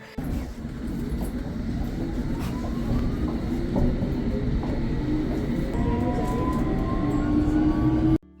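A London Underground Jubilee line train rumbles steadily along the track, a loud continuous low roar with rising whines and occasional clicks and rattles as it moves.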